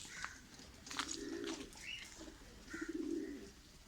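Caged pigeons coo softly in low repeated rolling calls, with faint chirps and a brief wing flutter at a quiet distance.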